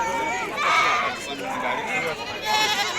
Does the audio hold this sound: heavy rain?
no